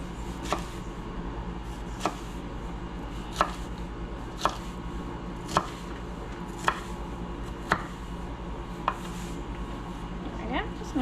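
A knife slicing a red pepper on a cutting board while making watermelon salsa, steady regular chops roughly once a second, crisp and close against a quiet kitchen background, with no talking.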